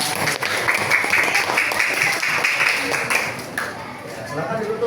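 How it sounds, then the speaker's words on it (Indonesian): Classroom applause for a student group during an Islamic religious education teaching session in Indonesia: a steady wash of many hands clapping, with voices mixed in, dipping briefly near the end. "beri tepuk tangan untuk kelompok 1."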